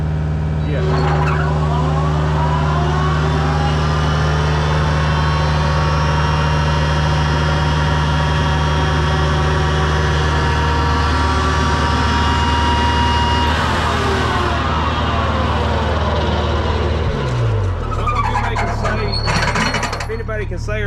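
Flail mower engine throttled wide open, a loud sustained roar with a steady hum, shifting pitch partway through as it drops and revs again.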